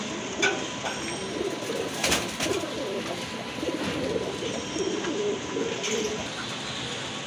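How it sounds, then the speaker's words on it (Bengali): A pair of blue Rajgolla pigeons coo repeatedly at close range among a steady wash of surrounding bird noise and a few clattering knocks, with no talk. "এক জোড়া ব্লু কালারের ভিতরে রাজগোল্লা কবুতর রয়েছে, খুবই সুন্দর ডাকে"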